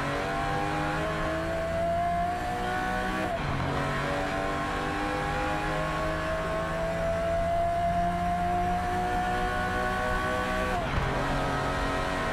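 A race car engine in the video game Project CARS drones steadily at high revs, pitch slowly climbing through long gears with two sharp shift dips, continuous and fairly loud throughout.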